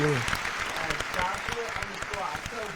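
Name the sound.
applause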